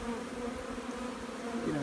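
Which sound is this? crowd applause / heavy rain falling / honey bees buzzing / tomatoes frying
honey bees buzzing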